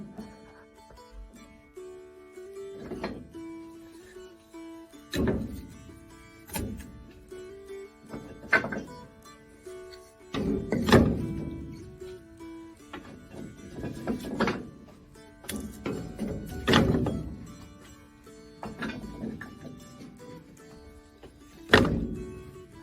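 A cast-iron door on a wood cook stove is handled, giving a series of scattered metallic thunks, clanks and scrapes of varying loudness spread irregularly over the stretch, close up with no talking.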